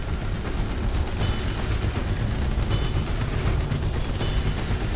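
Continuous, dense weapon fire from a gunner in Terminator Salvation, loud and close: rapid overlapping bursts with no pause and no talking.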